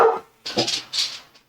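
A dog barks loudly and close by in a short burst: one sharp bark, a brief pause, then two more quick barks with a whiny edge, fading to a faint yip.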